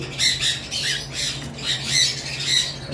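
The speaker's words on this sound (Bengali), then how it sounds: "এই পাখিটা মেল, এবং বাইরে যেটা বসে আছে ঝর্ণা পাল, এইটা ফিমে" A male cage bird at a bird farm gives repeated sharp, shrill squawks in short bursts, loud and close, with no talk over them.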